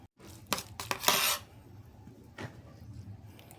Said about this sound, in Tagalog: Naghihiwa na tayo ng ating sibuyas, kamatis at saka luya.